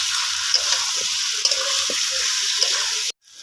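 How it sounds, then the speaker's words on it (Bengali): Prawns being stirred into frying potato and pointed gourd, a loud, close continuous sizzle with occasional scraping stirs, ending abruptly near the end. "আলু আর পটল কষানো হয়ে গেছে, এর মধ্যে আমি চিংড়ি মাছগুলো দিয়ে দেবো, ভালো করে একটু নেড়ে নেবো।"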